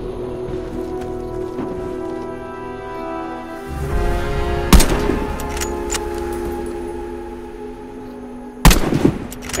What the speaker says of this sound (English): Hit all the targets with your Sniper Rifle.